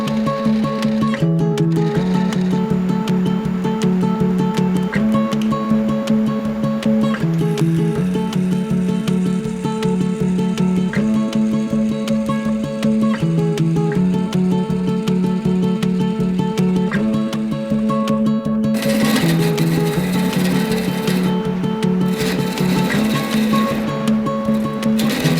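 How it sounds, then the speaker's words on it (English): A bowl gouge hollowing a wooden piece for a chandelier on a wood lathe, heard as a continuous steady hum with rhythmic scraping and chattering cuts, turning louder and rougher near the end. "I can start the hollowing process with a bowl gouge and a Forstner bit."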